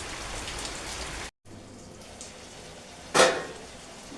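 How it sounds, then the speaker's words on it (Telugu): Rain falls outdoors in a continuous soft patter of drops on surfaces, briefly cutting out and then swelling with a sharper splash of heavier drops; no voices. "ఇక ఈ లోపల వర్షం వచ్చేసింది"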